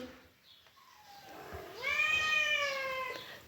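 A cat gives one drawn-out, rising meow close by, preceded by a softer faint mew in a quiet room.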